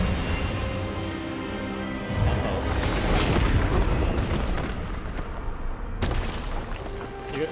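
An Expelliarmus spell effect in the video game Hogwarts Legacy lands as a deep, rumbling booming blast that swells and holds for several seconds, then eases off with a brief fresh burst near the end.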